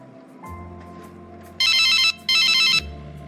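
A telephone rings twice in two loud, bright bursts over a low steady hum, with no talk.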